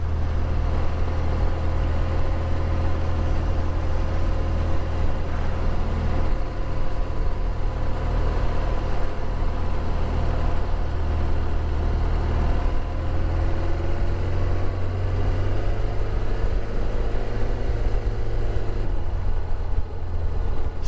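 A car engine labours uphill in first gear on Porlock Hill, a loud, constant low drone with a gradually shifting pitch held for the whole stretch.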